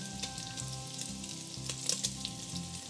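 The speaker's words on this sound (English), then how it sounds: "Frying the meat helps to add a ton of flavor while locking in the juices." Meat for Goan sorpotel sizzles in a pan with a constant crackling hiss, stirred now and then, close and steady, with a low rhythmic hum underneath and no talking.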